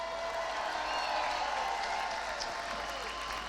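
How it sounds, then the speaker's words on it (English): Audience applause at a gathering supporting Palestinian medics, a continuous wash of many hands clapping, moderately distant and fairly soft, steady for the whole span. "can we just have a round of applause for all the Palestinian medics?"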